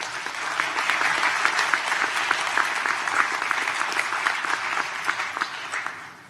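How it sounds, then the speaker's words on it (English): Steady, dense applause from an audience at a ceremony, given in thanks to a young string quartet, filling the space evenly and fading slightly at the end, with no talking over it. "Give them a round of applause, please."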